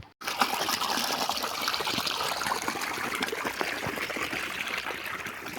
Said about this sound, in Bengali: এই যে এখানে জল চলছে, এটা আমাদের সাবমার্শাল থেকে জল আসছে